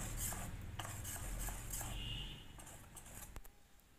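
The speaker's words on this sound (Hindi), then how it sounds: "इस तरह से हम इसे एक बार और मिक्स कर देते हैं।" Malpua batter thinned with extra milk is mixed in a bowl, a close, wet stirring with light spoon clinks against the side, fading quieter toward the end.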